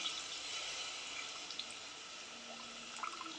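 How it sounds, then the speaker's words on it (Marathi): Tamarind water pours into a cooking pot of dudhi bhopla dalcha, a faint, steady liquid trickle with a few small drips, without talk. "ह्यात आपण चिंचेचे पाणी टाकून घेणार आहोत"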